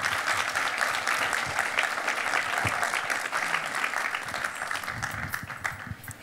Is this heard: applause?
yes